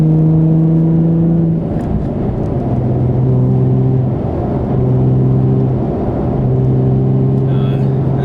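Nissan 350Z/370Z engine and exhaust fitted with an Invidia Gemini cat-back and Berk Tech high-flow cats, droning steadily from inside the cabin at cruise in fifth gear around 2,600 RPM, loud and continuous with a brief change in pitch early on.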